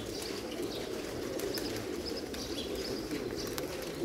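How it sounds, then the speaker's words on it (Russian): Several pigeons, including white crested double-crested birds, cooing under a high roof, with soft continuous murmuring coos and occasional chirps over a steady low background. "Много голубей"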